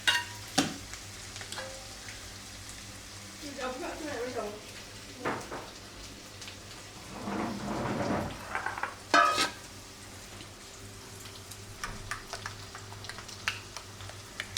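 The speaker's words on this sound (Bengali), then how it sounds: "এখন পেঁয়াজটা ভাজা ভাজা হয়ে আসলে দিয়ে দেব মশলা" Onion fries in a pan with a faint, steady sizzle, broken by a few clinks and scrapes of a utensil against the pan.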